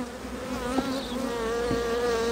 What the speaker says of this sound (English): this box is crammed, packed, full of bees